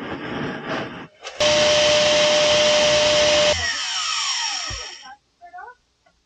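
A vacuum cleaner roars loudly inside an old converted school bus, running for about two seconds and then winding down. A voice is heard before the motor starts, and faint sounds come afterward.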